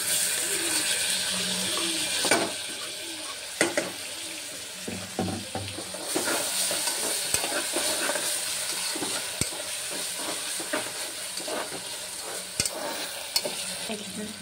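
Tomato and browned onion frying with Kolhapuri masala for a quick chicken dish, a steady sizzle with repeated spoon scrapes and stirring knocks against the pan, close and continuous.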